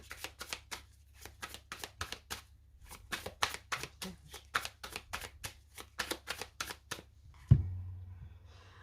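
Steampunk tarot deck being cut and shuffled, a quick run of crisp card flutters and riffles close by, ending in a soft thump as the cards settle.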